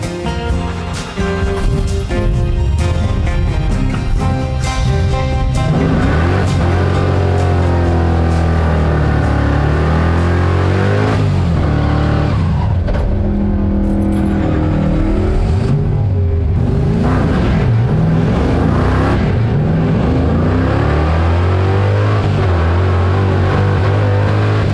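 A 327 cubic-inch V8 in a Chevy Nova with a four-speed manual and a double-pumper carburetor roars loud and close as it accelerates down a drag strip. Rising revs are broken by gear shifts, and the drone is sustained for about twenty-five seconds.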